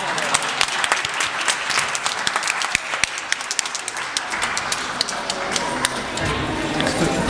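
An audience at the Ottawa Kannada School annual day claps steadily for several seconds, with sharp individual claps standing out and voices talking under the applause.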